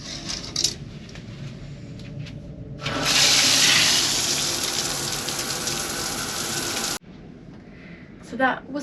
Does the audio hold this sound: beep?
no